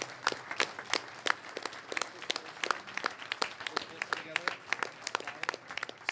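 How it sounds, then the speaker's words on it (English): A crowd at an idea pitch competition applauds with brisk, uneven clapping that carries on steadily, with some voices mixed in underneath. "let's start with another big round of applause for all of these good folks."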